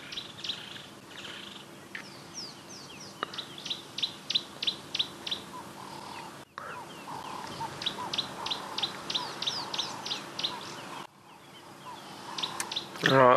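Hadeda ibis chicks in a nest calling while the female feeds them, rapid repeated high chirps in bursts, close and fairly loud, with a louder call near the end.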